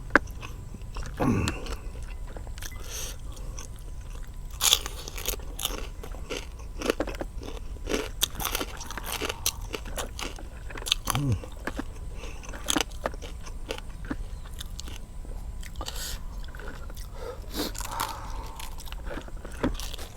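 Someone eats spicy blue crab papaya salad with grilled chicken necks, making close, repeated crunchy bites and chewing with scattered crackles and scrapes over a long stretch, no speech.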